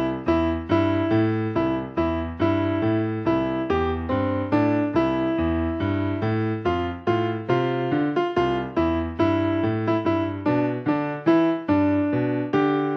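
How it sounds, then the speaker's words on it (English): Jingle Bells on solo piano, the melody carried over a bluesy walking bass line in the left hand, played at a steady, even tempo with clear, close, continuous notes throughout. "when we put this left hand underneath the melody line of Jingle Bells, it sounds like this."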